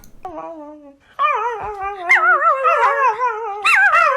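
A dog howls up close, a brief wavering cry followed by a long, rising and falling howl with yips, loud and continuous.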